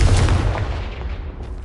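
A Confringo spell blasts in Hogwarts Legacy, one heavy booming explosion that rolls off and fades within a second or two.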